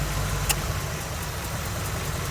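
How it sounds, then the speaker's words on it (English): A 1978 Jeep CJ-7 with a V8 idles steadily and close by, a low, even rumble with the air-conditioning pump clicking faintly as it cycles. "You can hear the AC pump idling, clicking in and on and off, cycling."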